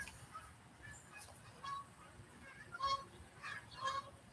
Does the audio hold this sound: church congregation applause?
no